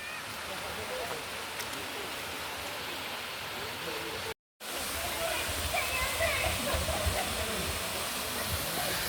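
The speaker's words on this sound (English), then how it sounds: "So we finally made it, y'all, to the Blue Basin waterfall." Blue Basin waterfall in Diego Martin pours steadily as a broad, continuous rush of water, with a brief dropout midway and faint voices over the roar.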